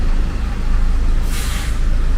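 A Hino bus run by operator Bayu Holong Persada pulls in, its air brakes letting out a loud half-second hiss over the steady low rumble of the idling engine.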